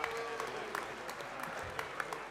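A large crowd of about 2,600 people claps steadily at a community rally in the Bankstown Sports Club hall. The applause is a dense, even patter with no pauses and no voices over it.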